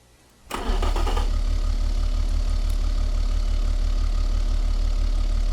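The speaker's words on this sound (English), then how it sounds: "let's crank this baby over." In the Automation game, a simulated turbocharged car engine cranks briefly and catches, then settles into a loud, steady, deep idle rumble that continues to the end.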